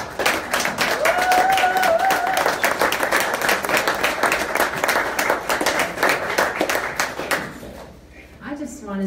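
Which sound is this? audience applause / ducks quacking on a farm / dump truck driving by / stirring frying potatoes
audience applause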